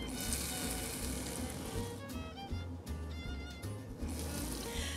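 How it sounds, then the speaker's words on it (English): Aebleskiver, round Danish pancake-flour balls, frying in a little grease: a steady, close sizzle with crackling pops and faint clinks of utensils, no voices. "It kind of has to cook in a little grease."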